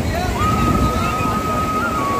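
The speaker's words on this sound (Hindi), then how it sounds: "जो उनकी आवाज़ जो लहरों की है आप सुन सकते हैं" Waves of the Ganges river at Har ki Pauri in Haridwar, a steady sloshing water wash with crowd murmur and a thin whistle-like tone over it, fairly loud and continuous.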